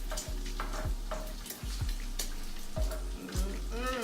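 Bacon sizzles steadily in a pan, a continuous close frying hiss broken by a few sharp clatters and taps of a utensil against the pan.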